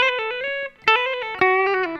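A PRS SE Swamp Ash Special electric guitar on its bright treble pickup plays a short run of clean, ringing picked notes and chords, with a brief gap partway through before stronger strums return.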